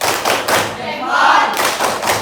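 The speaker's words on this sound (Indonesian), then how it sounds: "Pertama itu adalah tepuk salut" A classroom of pupils performs a rhythmic salute clap in unison, a few quick bursts of hand claps and thumps close by, with voices mixed in.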